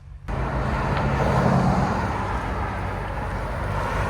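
A 670 hp 2020 BMW M8 Competition with a 4.4L twin-turbo V8 and X-pipe exhaust starts pulling away, a sudden loud broadband exhaust roar holding steady and slowly easing as it drives off.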